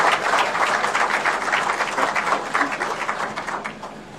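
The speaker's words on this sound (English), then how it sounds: "So we can give him a round of applause." An audience at a Nairobi Securities Exchange launch event applauds to welcome the president, a dense, loud burst of clapping that holds steady and then begins to fade.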